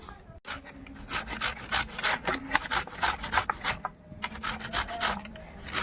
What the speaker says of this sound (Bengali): এবার আমি কচুটাকে এই ছুলি দিয়ে ছুলে নেব।